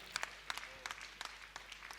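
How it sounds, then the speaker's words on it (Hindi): Audience at a religious gathering in Shikharji, Jharkhand, applauding a donation presentation with steady, moderately loud clapping that keeps up throughout, with scattered sharper claps standing out. "आप जोरदार ताली बजाकर इनका"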